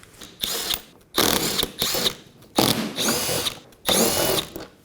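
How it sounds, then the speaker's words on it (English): A power tool whirs in four separate bursts, each a second or so long with short pauses between, removing 10mm bolts under a Dodge Durango; loud and close. "It's held down by a number of 10mm bolts along the front. We're going to go ahead and remove those."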